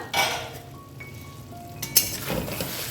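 A metal lid is lifted off a pot of Bengali labra mixed vegetables cooked on a medium-low flame, making a short close clink followed by a soft clatter over a faint background hiss.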